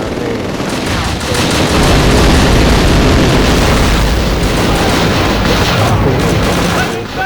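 A bomb blast in the war shooter Call of Duty: Roads to Victory, a loud sustained roar of explosion and rumbling gunfire filling the whole stretch, dense and close with no pause.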